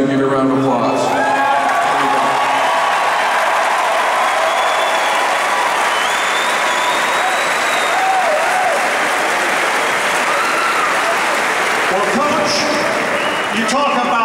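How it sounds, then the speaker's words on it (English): A banquet audience applauds the coaching staff's wives, a loud sustained wash of clapping from a large crowd that carries on without a break and fades slightly near the end. "give you a round of applause"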